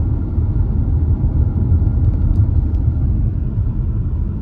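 A 2017 Genesis G80 with a 5.0 V8 accelerates at half throttle, a deep, smooth, steady engine rumble heard from inside the cabin with no talking.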